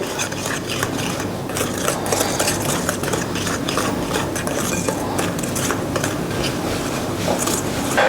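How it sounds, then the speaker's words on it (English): All-purpose flour being stirred into a marshmallow brownie batter in a bowl, giving a continuous close scraping and clattering of utensil against the bowl, steady and fairly loud throughout with no voices. "Now mix it well."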